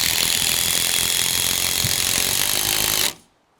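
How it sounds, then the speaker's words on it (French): A power screwdriver drives small screws at an angle into wooden beams during assembly of a 44 mm double-pitch timber chalet, a loud continuous whirring ratchet buzz lasting about three seconds, then cutting off abruptly into near silence. "Donc moi là c'est des petites vis, donc je vais les visser en biais."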